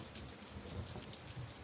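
Steady rain patters continuously on surfaces, a soft dense hiss with scattered droplet ticks, fairly faint and without voices.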